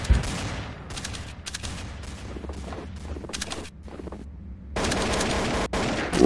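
Gunfire in the video game Counter-Strike: Source, with rapid bursts of automatic shots in quick clusters separated by brief gaps, loud and close, ending in a sustained stretch of heavy firing.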